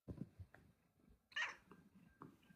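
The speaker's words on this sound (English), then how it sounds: "What's that, kitty cat?" A cat gives a single short, faint meow in a quiet indoor room, preceded by soft low rustling noises.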